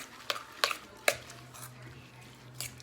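Chicken taco soup being stirred in a pot, a utensil knocking against the side in three or four sharp clinks amid soft sloshing, with a low steady hum underneath.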